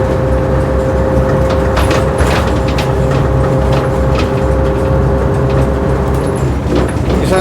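A 1958 Leyland Atlantean double-decker bus drives along a rough road, its engine droning steadily and loudly throughout, with faint clanks and rattles from the body over bumps.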